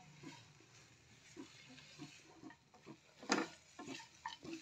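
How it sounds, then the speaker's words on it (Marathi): Bitter gourd mixture with salt is stirred in a pan, giving quiet, irregular scraping and shuffling strokes with a brief louder clatter, close and faint, with no talk. "व्यवस्थित हलवून घ्यायचं आहे."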